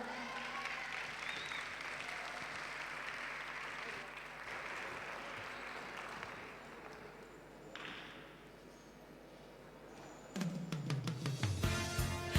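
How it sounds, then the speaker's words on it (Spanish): Sustained, moderately distant audience applause at a karaoke competition for a woman singer heading to the stage. The steady clapping runs for several seconds, then louder music and cheering break in near the end. "Fuerte aplauso para ella"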